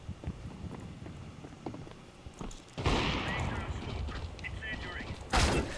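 Gunfire in a Counter-Strike match, including SSG sniper rifle shots: scattered clicks and muffled shots, then two sharp, loud bursts with lingering reverb, close and busy with game noise.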